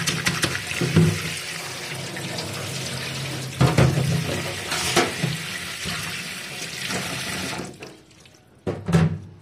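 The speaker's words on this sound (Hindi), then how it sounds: "इसको हम धो लेते हैं" Vegetables rinsed under a running kitchen tap, a steady close stream of water splashing into a sink with brief louder gushes as the produce is moved about.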